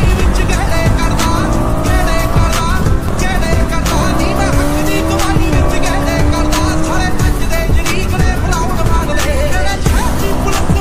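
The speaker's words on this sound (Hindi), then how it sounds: "तो मेरे साथ है राहुल, ये 390 लेके आया है और मैं 2।" A KTM Duke 390 and a Duke 200 motorcycle race together, their engines loud and close, revving hard in rising pitch sweeps that roar on without a break, with no talk over them.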